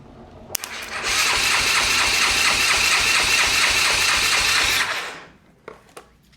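The starter cranks the engine of a 1998 Honda Recon 250 ATV, giving a close, steady whirring chug for about four seconds before it stops, followed by a few faint clicks.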